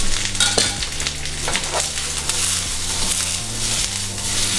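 Peppers and garlic stir-fry in a hot wok for a pepper steak dish, with continuous sizzling and repeated scraping, clanking strokes of a utensil against the metal, and no talking.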